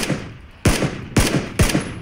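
Gunfire in PUBG (Battlegrounds): three sharp, loud, close shots ring out about half a second apart, each with a short ringing tail.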